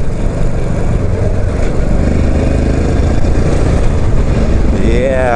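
Motorcycle engine rumbling steadily while riding through city streets in Tokyo's Harajuku area, a loud continuous low drone with road and wind noise and a brief rising rev near the end; someone talks over it.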